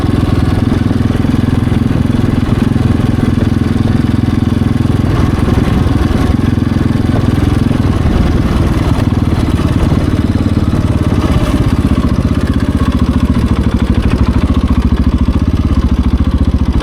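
A KTM 690 Enduro motorcycle idles up close with no throttle, a steady, loud, low thrumming engine note that holds unchanged throughout.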